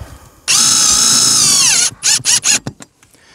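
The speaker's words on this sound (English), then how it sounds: "Zing a couple screws in just to hold it down for the time being" A cordless power drill drives screws into a Starlink dish mount on a shed roof, one long high whine followed by several short bursts of trigger pulls, loud and close with no talk.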